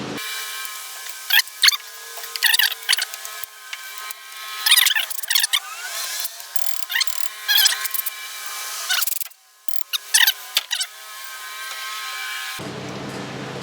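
Bolts being worked out of the carburetor on a 1962 Johnson 28 hp outboard motor, heard as a close run of short metallic scraping, clicking and ratcheting bursts with a steady hum underneath.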